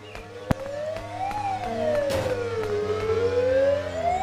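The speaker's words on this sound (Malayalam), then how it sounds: "എന്താണ് സൗണ്ട് ആംബുലൻസ്" Ambulance siren in a car driving video game, a wailing tone that rises and falls slowly, loud and clear over faint engine hum, with a few sharp clicks.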